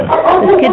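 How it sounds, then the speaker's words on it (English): Dogs bark and yip close by in a short, loud burst while a person talks over them. "Sorry about the dogs."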